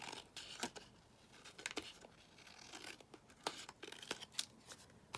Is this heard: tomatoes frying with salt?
no